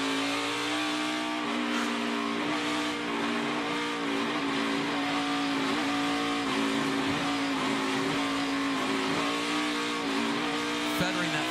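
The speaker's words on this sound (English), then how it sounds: "Feathering that throttle through the carousel is Justin Haley." A NASCAR race car engine drones loudly and continuously as the driver feathers the throttle through the carousel at a road-course race, its pitch wavering up and down, with a commentator talking over it.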